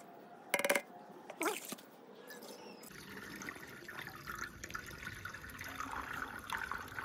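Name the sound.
water being poured into a motorcycle petrol tank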